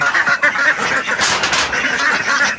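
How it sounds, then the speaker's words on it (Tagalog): Ducks on a small farm call noisily at feeding time, a dense, continuous chorus of loud nasal quacks close by with no pauses. "So, yung medyo malalaki ng itik dito."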